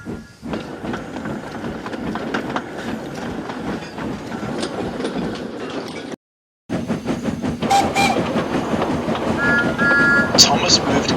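A steam tank engine rolls along the track with a steady clickety-clack rhythm; a short silent break comes midway, then the running resumes, with bright whistle-like tones toward the end.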